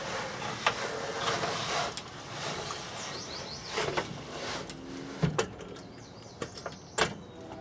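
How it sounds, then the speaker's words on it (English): A hand-cranked Princess Auto drywall lift being lowered, giving faint mechanical clicks and ratcheting knocks with a few sharper metallic taps toward the end. "Pretty much you're gonna have to release the tension a bit and then hand crank her down."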